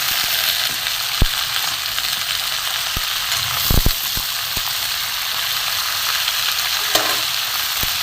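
Mixed vegetables with salt frying in a pan, giving a steady close sizzle throughout, with a few sharp stirring clicks and scrapes at scattered moments.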